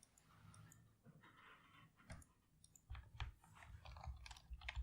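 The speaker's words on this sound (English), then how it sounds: "Your keyboard is very loud." A loud computer keyboard typed on right beside the microphone, a quiet run of irregular clicky keystrokes with some heavier thumps near the end, no voices.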